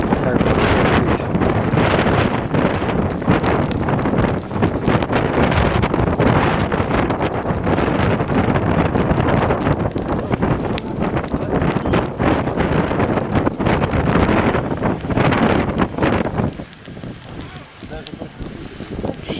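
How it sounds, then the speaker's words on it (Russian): Strong wind buffets an outdoor birthday gathering around a bonfire, a continuous loud roaring rush across the microphone that eases slightly near the end. "Волнуется ветер сегодня сильный."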